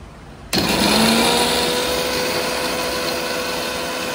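A mixer grinder switches on abruptly and runs loud and steady grinding cumin, a high whirring motor roar that holds for several seconds close by with no talk.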